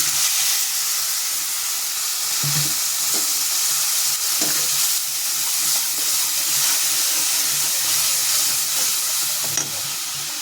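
Cumin, coriander, green chillies, turmeric and chilli powder fry with a splash of water in a pan, making a loud, steady hissing sizzle with occasional soft stirring knocks, close up and with no talking.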